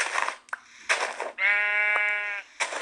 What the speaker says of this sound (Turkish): Ah koyun geldi.